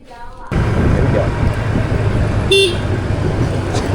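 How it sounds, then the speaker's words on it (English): A car horn gives one short, loud toot up close from a vehicle in road traffic, over a steady engine and road rumble, with no voices during the honk. "Had a honk at her."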